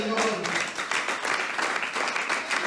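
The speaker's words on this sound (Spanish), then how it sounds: "Denle un fuerte aplauso al Señor." A church congregation breaks into dense, sustained applause, many hands clapping together in a continuous roar that fills the room.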